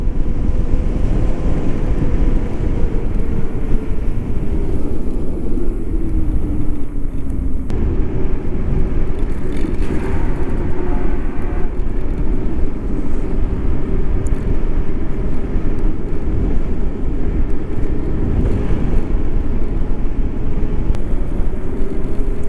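Electric scooter capable of 60 mph ridden at high speed, with a loud constant roar of wind buffeting the microphone and road rumble, no voices, and a slight shift in tone partway through.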